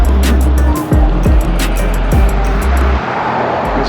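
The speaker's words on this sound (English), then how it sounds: "I'm going to take a break right here and wait for these cars to pass" Several cars sweep past close by on a road near a bridge on Marco Island, one after another, with a steady low rumble of tires and wind noise throughout and no talking.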